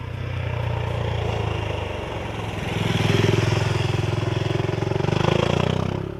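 A 2016 KTM Duke 690 R single-cylinder motorcycle engine pulls hard on a circuit, a loud buzzing drone rising in pitch with acceleration, easing briefly, then climbing again as the bike rides on.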